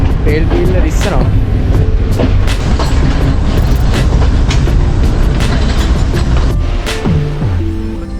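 Train running on rails at Gampaha station in Sri Lanka, a loud, close, continuous rumble and rattle with sharp wheel clanks, easing slightly near the end.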